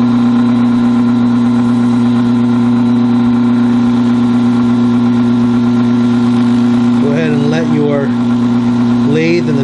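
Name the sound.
wood lathe spinning a Celtic bottle stopper during friction polishing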